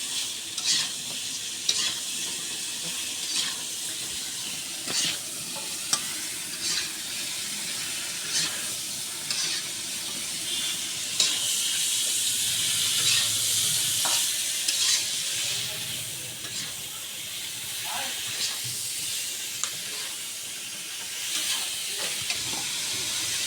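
Food is stirred with turmeric and salt in a hot frying pan: repeated sharp scraping strokes of a utensil punctuate a steady close sizzle and hiss, with no speech.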